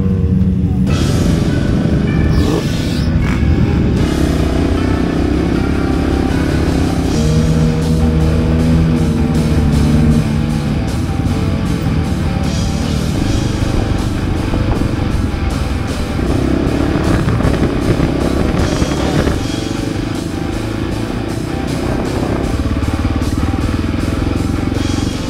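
KTM 450 rally motorcycles and other vehicles leave a beach at the start of a Morocco desert rally race, engines loud and close in a continuous rumbling drone with revs rising and falling and a faint voice underneath.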